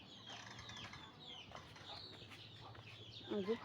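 Small and large free-range desi chickens cluck outdoors, faint scattered calls and wing flutters over a quiet background, with a louder burst of clucking near the end.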